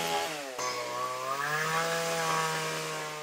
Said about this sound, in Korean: 전기톱의 움직임을 따라 사방으로 톱밥이 튄다.